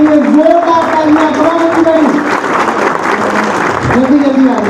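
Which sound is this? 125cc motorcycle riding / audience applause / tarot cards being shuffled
audience applause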